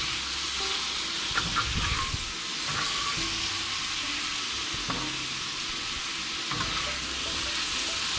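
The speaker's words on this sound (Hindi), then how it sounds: "इसको अराउंड 6 से 8 मिनट मैक्सिमम आपको भूनना है, वरना ये सख्त हो जाएगी।" Beef or mutton liver pieces (kaleji) frying on a hot tawa, a steady close sizzle with occasional scrapes and knocks as they are stirred.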